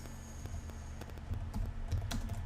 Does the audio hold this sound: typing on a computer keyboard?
yes